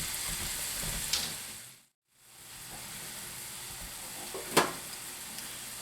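Beef stroganoff with mushrooms simmering in a pan gives a steady soft sizzle and hiss that drops out briefly near the middle. Two sharp utensil clinks stand out above the bubbling, with no talking.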